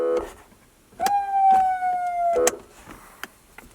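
Aftermarket siren fitted to a 2014 Chevrolet Silverado truck gives one short, loud tonal wail lasting about a second and a half, bracketed by clicks, with quiet surroundings.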